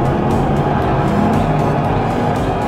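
Hot Wheels, Majorette and Matchbox die-cast toy cars race down a track, including an Austin, a Lamborghini Gallardo, a Renault and a Lamborghini Miura, giving a steady, dense rolling rumble throughout with no talk.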